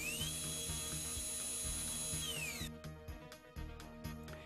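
A Bien Air high-speed electric dental handpiece runs with a steady, piercing high whine that then winds down abruptly partway through, leaving a low hum and clicks close by.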